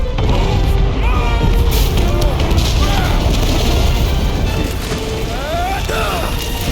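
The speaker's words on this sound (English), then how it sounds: "Okay, they're set to blow!" In Marvel's Guardians of the Galaxy video game, explosions and heavy rumbling roll on loud and continuous amid mechanical clanks and debris, while voices shout over the chaos.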